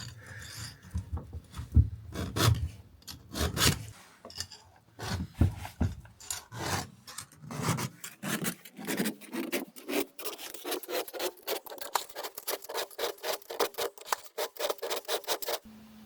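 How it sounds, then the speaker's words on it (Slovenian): A hand file rasps steadily along a chainsaw chain during sharpening outdoors in spring snow, making repeated scraping strokes in a regular rhythm, close and moderately loud, with no talk. "prav veliko izkušenj z brušenjem verige nimam"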